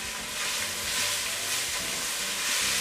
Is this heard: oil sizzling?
yes